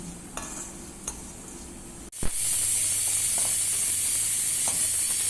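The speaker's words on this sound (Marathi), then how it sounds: "आपण ही मसाले सगळे घालूया आणि आपण 2 मिनटं हे परतवून घेऊया गॅसवर" Sliced okra hits a hot pan of spiced oil on a gas stove with a sudden loud sizzle. A few faint clinks come before it, then steady, close frying hiss that fills the rest.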